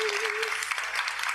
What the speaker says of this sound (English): Can we all give my sis and Piwa another well-deserved round of applause